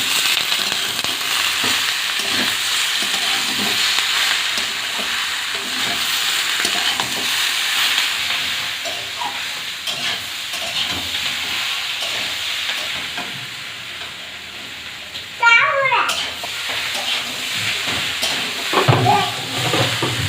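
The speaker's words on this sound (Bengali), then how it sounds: "ক্যাপসিকাম আর আলু কষাই করা হয়ে গিয়েছে" Capsicum and boiled potatoes fry and sizzle steadily in a pan with occasional stirring scrapes, a close continuous hiss throughout and a brief clatter near the end.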